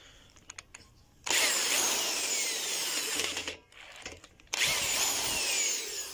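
A power tool backs screws out of a Maytag washer during a transmission repair, whirring loudly in two long sustained runs with a short dip and a few brief clicks between them.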